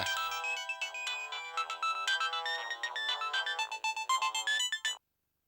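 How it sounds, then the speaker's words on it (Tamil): A mobile phone ringtone plays a bright, repeating electronic melody of quick tones, loud and close for about five seconds before stopping abruptly, with no talking over it. "டேய் ஃபோன் அடிக்கிறது"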